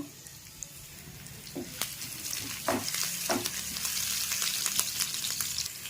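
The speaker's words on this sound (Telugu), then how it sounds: "ముందుగా అయితే కళాయి వేడైన తర్వాత రెండు స్పూన్ల వరకు ఆయిల్ వేసుకోవాలి ఇప్పుడు సన్నగా తరిగిన పచ్చిమిర్చి వేసుకుంటున్నాను" Finely chopped green chilies tossed into about two spoons of hot oil in a heated kadai, sizzling and frying steadily while a spoon stirs with occasional clinks, close by with no talking.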